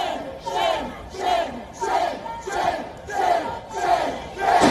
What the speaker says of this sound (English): was heckled by a huge crowd of protesters